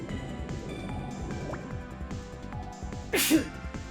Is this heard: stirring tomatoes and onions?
no